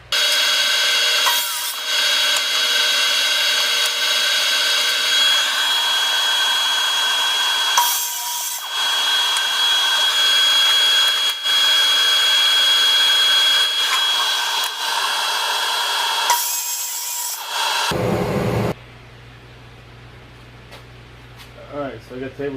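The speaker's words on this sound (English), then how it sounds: "I got table saws set up for the first rip" Table saw ripping a 2x4 of box-store lumber for breadboard ends, a loud sustained whining blade hum broken by brief dips as the cut progresses, then the motor winds down at the end.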